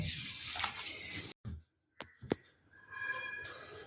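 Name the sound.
washing moringa leaves in water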